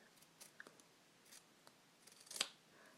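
Scissors trim a duct tape rose petal into a rounder shape, making faint, scattered snips close by that end in one sharper, louder cut.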